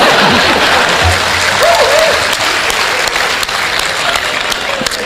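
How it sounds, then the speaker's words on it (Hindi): Applause from an audience at a mushaira: loud, continuous clapping fills the whole stretch with a steady patter, and a faint voice drifts briefly through the middle. "दो तीन लोग ताली बजा रहे हैं"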